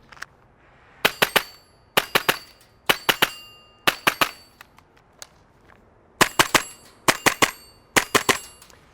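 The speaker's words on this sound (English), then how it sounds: "Really repeatable shots, and the addition of that brace makes follow-up shots even faster." Rapid pairs and bursts of sharp, loud cracks from an ASG B&T USW A1 gas blowback airsoft pistol, fired in quick strings of two to four shots with brief pauses between the strings.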